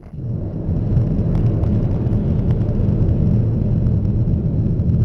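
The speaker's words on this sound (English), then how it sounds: "We want to measure the interior noise with you. We're driving 50 kilometers per hour." Steady low cabin rumble inside a Cupra Terramar eHybrid cruising at 50 km/h: a broad, even drone of road and tyre noise, with faint higher ticks, continuous and unbroken for the whole stretch and no voices.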